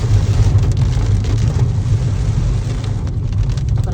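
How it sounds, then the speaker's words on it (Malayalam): Heavy rain pours over forest, heard from inside a moving vehicle as a loud, dense wash of drumming mixed with low engine rumble, steady throughout. "Enjoying the rain through the forest."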